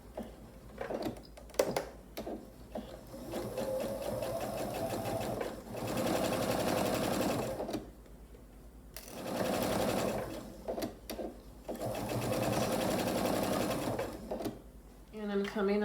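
Sewing machine back stitching along the edge of a self-binding flannel receiving blanket, in several steady runs broken by brief stops, with a person talking between the passes.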